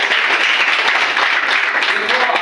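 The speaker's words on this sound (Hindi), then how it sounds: "तालियों में कंजूसी मत करिए" Loud, dense clapping from a crowd fills the whole stretch, continuous and close, with no pauses.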